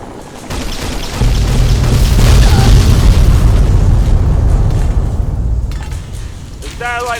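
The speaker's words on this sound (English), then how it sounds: "Calling an airstrike." An airstrike in Fallout: The Frontier sets off a loud, close explosion with a deep sustained boom and rumble that fades over several seconds, followed by brief mechanical sounds.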